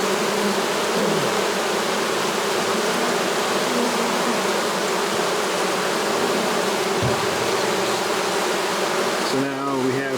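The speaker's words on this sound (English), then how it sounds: "now we have all the bees that I shook out of the frames" A dense, loud, continuous buzz of honey bees shaken from frames in front of their hive, a steady mass of wingbeats close by with brief, low voice fragments near the end.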